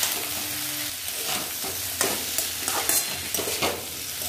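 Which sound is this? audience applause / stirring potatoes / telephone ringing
stirring potatoes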